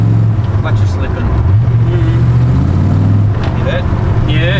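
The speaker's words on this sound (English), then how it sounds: "Clutch is slipping." Car engine revving with a slipping clutch, the tone rising and sagging in sustained loud surges with no steady grip, while people talk nearby.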